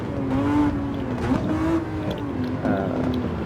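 A Ferrari FXX K from 2014, a mid-engined car driven in Gran Turismo 7 on the Sardegna race track, holds a steady loud engine drone that rises and falls a little as it revs, close and without talk.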